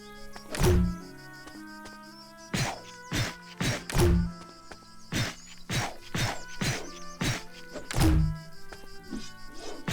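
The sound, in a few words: cannon firing in Kitaria Fables video game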